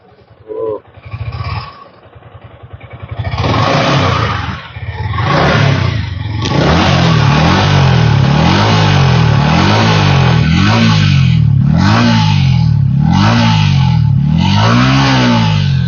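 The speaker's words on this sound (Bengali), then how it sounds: "বাইকটা যেহেতু রেডি করা হয়ে গেছে, আমরা একটু সাউন্ডটাও শুনিয়ে দিই" A Yamaha R15M motorcycle, including a Carbon Edition, revs loudly and close up inside a showroom, its engine note climbing and falling in repeated sharp blips, with a brief bit of talk at the start.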